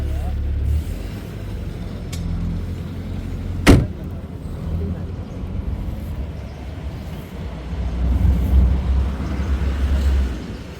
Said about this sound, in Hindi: गाड़ियाँ आ गई इधर से